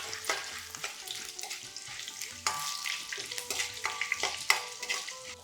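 Green chilies, peppercorns and chopped dried red chilies frying in hot oil, a continuous crackling sizzle with repeated clinks and scrapes of a stirring spoon against the pan, up close, no talking.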